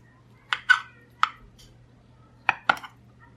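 Boiled potatoes being cut into pieces with a knife, five or six sharp close taps spread in two groups with quiet pauses between, a steady low hum underneath.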